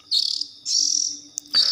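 Young kacer (magpie-robin) chicks about 13 days old chirp in several bursts of high, buzzy begging calls, close and loud, separated by short pauses, with a brief sharp click between calls.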